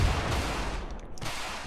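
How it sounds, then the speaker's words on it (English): Spaceship missiles and cannons firing during space combat in the game Hire Stars, a loud rumbling blast with a booming low end that briefly dips and then surges again. "The missiles are going"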